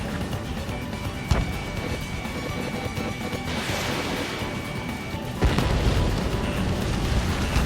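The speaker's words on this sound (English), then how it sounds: "We're ready to bomb the base." A fighter jet bombs an enemy base in Ace Combat 7, a steady roar of engine and battle noise broken by sharp crashing impacts, then a louder, denser blast that swells toward the end.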